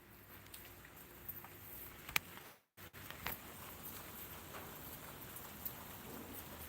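Faint, steady patter of rain with scattered drips and taps, broken by a brief moment of silence midway.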